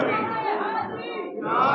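A large religious gathering answering in unison, a loud massed shout of voices rising together in a single sustained call, close and reverberant.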